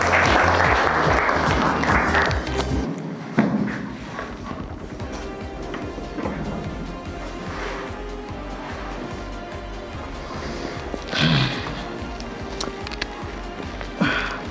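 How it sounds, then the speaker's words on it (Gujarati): Loud, sustained audience applause greets a student contestant called to the hot seat at a KBC-style Class 10 quiz event, with dense clapping filling the whole stretch and a brief swell near the end. "એક જોરદાર તાળીઓ થઈ જાય"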